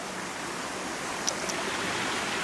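A waterfall in Amlan, Philippines gives a steady, broad rushing roar that fills the scene at an even level, with two faint brief clicks partway through.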